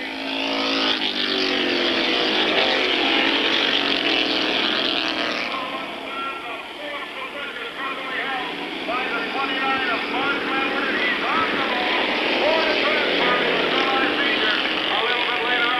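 Race cars roar around an oval track at a 1992 weekly event at Airborne Raceway, a dense, continuous engine drone under a commentator's voice calling the race.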